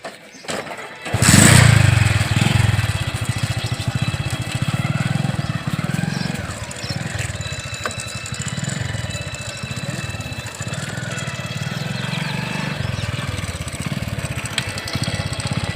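A motorcycle engine kicks into life with a sudden loud burst, then settles into a steady, throbbing idle that continues close by without a break.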